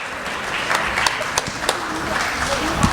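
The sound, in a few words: applause at a school annual day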